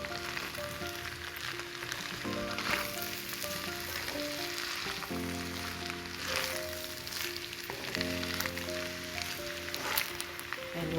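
Pork fried rice sizzles and crackles steadily in a hot pan as it is stir-fried, a constant moderate frying hiss with occasional scraping stirs and no talking.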